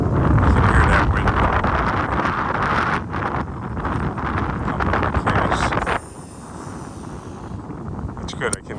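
Wind blows hard across the microphone while a fishing reel is cast outdoors, a rough roaring gust that drops off partway through, with a brief faint rustle near the end.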